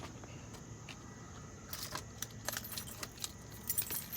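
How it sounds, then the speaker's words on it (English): Keys jangle in several short metallic bursts near a truck cab, close and fairly quiet, over a low idling vehicle hum and with no voices. "Grab your keys."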